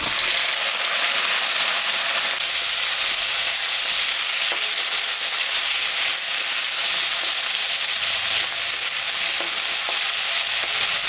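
Potatoes for fish curry sizzle and crackle steadily in hot oil, a constant close frying hiss with faint occasional stirring, no talking.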